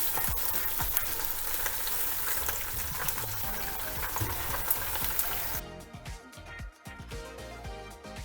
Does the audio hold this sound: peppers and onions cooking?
yes